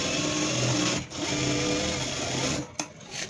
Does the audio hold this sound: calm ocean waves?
no